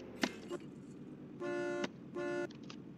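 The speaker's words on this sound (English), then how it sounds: "when cops pass each other, they're supposed to honk at each other" Two honks from a police car horn in the Roblox video game, each a steady, buzzy tone lasting about half a second, with a brief click-like tap before them, over a quiet background.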